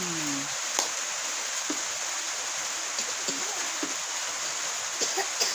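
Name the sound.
rain falling at night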